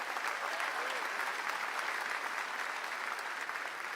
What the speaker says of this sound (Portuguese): Você pode aplaudir o Senhor nessa manhã?